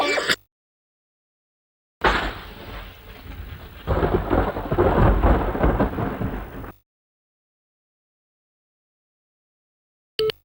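Thunderstorm in the Badlands of the video game Zombie Dinos from Planet Zeltoid, a burst of heavy rain with a rolling thunder rumble lasting several seconds, loud, framed by silence and no talking.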